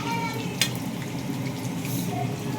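Chicken leg pieces coated with cornflour fry in hot oil in a pan, giving a steady, close sizzle with a brief sharp crackle near the start.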